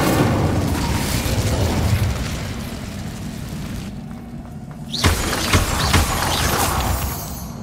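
Incendio fire spell in Hogwarts Legacy, a loud fiery whooshing burst that roars continuously, drops briefly, then erupts again with crackling impacts, close and dominant.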